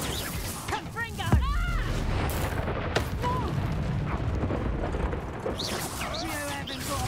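Confringo blasting spell exploding in a Harry Potter video game, a sharp burst followed by rumbling, crashing noise under overlapping character voices and shouts.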